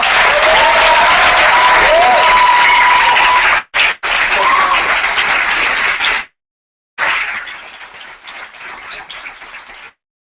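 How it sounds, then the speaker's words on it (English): A crowd gives sustained applause for a candidate at a student-election Q&A, loud dense clapping that cuts out abruptly twice, resumes, then thins into scattered claps before stopping, with some voices mixed in. "A big round of applause for Gaspard."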